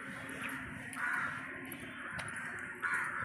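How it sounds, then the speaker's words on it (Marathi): Crows caw near water outside a temple compound, a few harsh calls close by at moderate volume, spaced irregularly over a quiet outdoor background. "कावळे पाणी पित होते"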